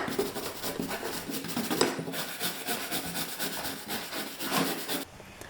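A stiff-bristled brush scrubs loose wood from routered cabin logs in quick back-and-forth strokes, making a close, raspy scratching that ends abruptly near the finish.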